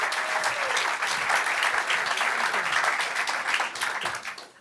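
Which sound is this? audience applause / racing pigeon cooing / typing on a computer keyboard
audience applause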